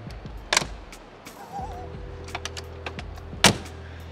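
A car door at Motor Expo 2023 opening and closing, a sharp solid thunk early and another firm slam later, separated by a faint mechanical whir and light clicks over a busy hall hum.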